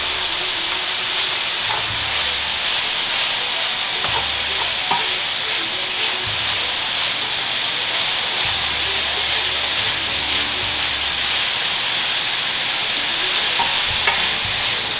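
Zucchini noodles and mushrooms sizzle loudly in a hot pan, a dense continuous hiss and crackle with occasional soft stirring bumps, close and steady throughout.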